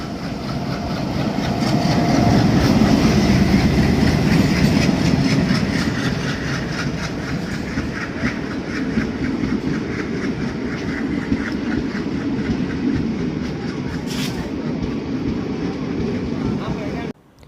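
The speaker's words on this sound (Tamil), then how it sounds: "டீசல் இன்ஜின் வருது பாருங்கள் சூப்பராக, எர்ணாகுளம் ஷெட்டோட டீசல் இன்ஜின்" A diesel locomotive from the Ernakulam shed rumbles in, loud and steady, with heavy low engine drone and rhythmic clickety-clack of wagons, and a voice speaks over it.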